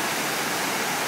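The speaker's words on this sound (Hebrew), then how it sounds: "זה הזיכרון שעשו, מין בריכה ענקית ובתוכה בריכה יותר קטנה, והמים מסביב כעין מפל." Water cascades into the vast square 9/11 Memorial pool in New York City, a dense, steady roar of falling water with no other sound.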